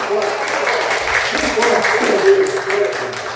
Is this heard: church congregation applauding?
yes